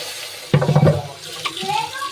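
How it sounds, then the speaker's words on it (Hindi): Cold tap water splashes over carrots being washed by hand in a sink, with a short burst of running water and handling sounds, then quieter trickling under a faint voice. "और इसे गाजर को धोना है खूब अच्छे से।"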